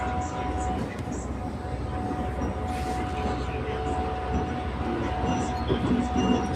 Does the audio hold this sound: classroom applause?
no